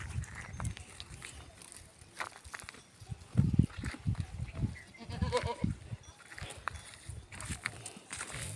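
Goats bleat intermittently on a farm amid shuffling hooves and movement, with someone talking over much of it.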